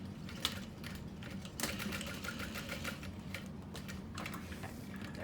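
A sewing machine stitches through the back panel of a fabric bag near the strap connector, a close, quiet, rapid mechanical whir and tick in short bursts.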